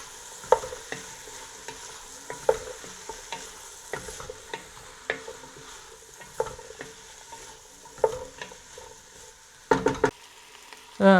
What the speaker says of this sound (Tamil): சேர்த்துக்கிட்டு நல்லா ஒரு மிக்ஸ் கொடுங்க.